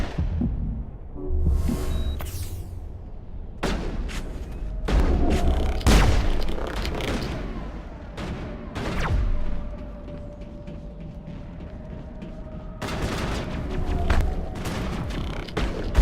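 Missiles and explosions in the video game Mass Effect: scattered booms and bursts of blasts over a low drone and a steady tone, loud then easing off.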